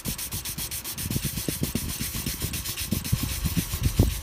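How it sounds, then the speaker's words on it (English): Hand sanding an epoxy LED lamp with 220-grit sandpaper: close, steady back-and-forth rasping strokes in a quick, even rhythm, with no voices. "So this is 220 sandpaper."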